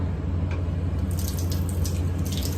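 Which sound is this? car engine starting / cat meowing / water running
water running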